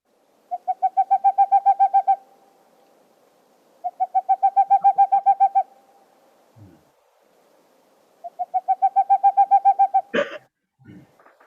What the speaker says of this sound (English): What we got is a boreal owl.